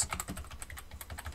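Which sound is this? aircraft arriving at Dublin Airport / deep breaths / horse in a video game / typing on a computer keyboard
typing on a computer keyboard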